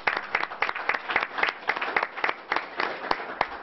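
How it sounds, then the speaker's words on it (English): Applause from a small forum audience at a chamber of commerce event, a sparse patter of individual claps with clear separate hand strikes, moderately close and unaccompanied by talk. "So let's have a round of applause."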